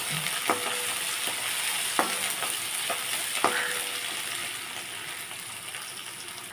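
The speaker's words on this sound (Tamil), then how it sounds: "இதோட சேர்ந்து உளுத்தம்பருப்பு கடலைப்பருப்பு நல்லா வதக்கிக்கலாம்" Urad dal and chana dal sautéing in oil with green chili, ginger and curry leaves make a steady low sizzle, punctuated by a few sharp spoon clicks against the pan, close and without talk.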